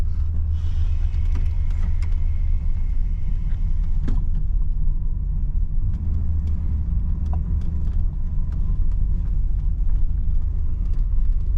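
A 1966 Imperial with a big block engine cruises down the road, a steady loud low rumble of engine and road noise inside the cabin with occasional faint clicks and rattles.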